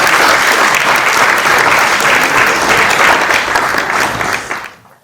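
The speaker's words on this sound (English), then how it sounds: "could you give it up a hand of applause for our panelists?" Audience at an AfCFTA workshop applauds a panel of speakers, a dense, loud, steady burst of clapping that holds for several seconds, then quickly fades out at the end.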